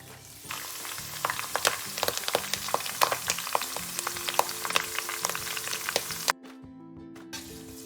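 Curry leaves hit hot oil while Bombay mixture is being made, throwing out a burst of loud, crackling sizzle with sharp pops that settles to a softer bubble near the end.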